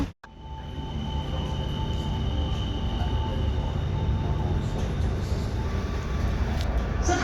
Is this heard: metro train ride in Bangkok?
yes